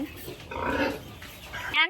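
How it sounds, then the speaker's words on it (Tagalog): Piglets on a farm in Albay grunt in a short close burst, with a squeal-like rise near the end and people talking faintly alongside. "malalaki na ang ating mga biik"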